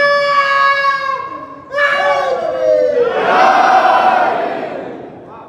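A crowd at a religious majlis gathering shouts slogans in unison, loud, sustained voices rising and falling in two or three long surging calls.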